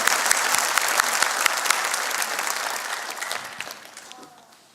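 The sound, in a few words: church congregation applause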